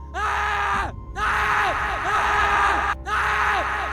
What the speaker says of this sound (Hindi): से चिल्लाने की आवाजें आ रही थी